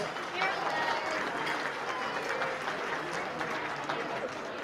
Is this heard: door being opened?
no